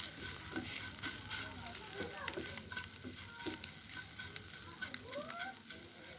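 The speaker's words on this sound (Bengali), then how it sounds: "দেখুন, এটা একটু এরকম ব্রাউন কালার করে ভাজতে হবে।" Vegetables frying in a pan until brown, a constant close sizzle with frequent stirring scrapes and utensil taps, no voices over it.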